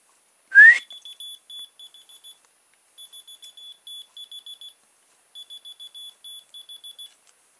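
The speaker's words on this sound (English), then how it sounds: "If I just take the bit of plastic out and see if I can whistle the right note" A cheap plastic whistle from Poundland, its inner plastic piece removed, blown once sharply and loudly, then in three runs of short rapid pulsed tones, close up and alone.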